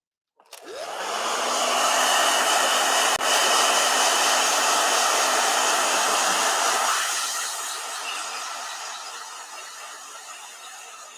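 A handheld hair dryer blows on watered-down acrylic paint, a loud, steady close whoosh that starts abruptly, holds for several seconds, then eases slightly and continues.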